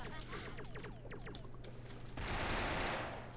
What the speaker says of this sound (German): Ich habe hier Schüsse gehört.